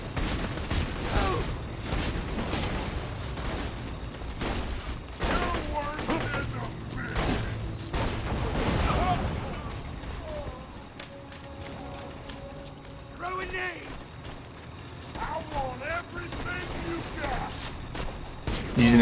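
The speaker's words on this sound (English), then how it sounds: "Using this machine gun has actually been quite useful." Machine gun fire in Borderlands 2, steady rapid bursts dominating the first half, then thinning to sparser shots mixed with mechanical game sounds and effects.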